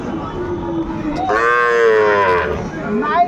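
A Sahiwal bull calf at a livestock market in Pabna lets out one long, loud, close moo over a crowd murmur, with a fainter low call trailing after it.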